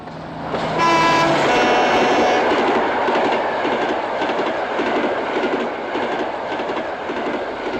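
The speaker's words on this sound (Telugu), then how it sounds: "రారా, ట్రైన్ రా." A train passes along a railway, opening with a loud horn toot and then a steady, close rumble with rhythmic clickety-clack of wheels on the rails, and no talking.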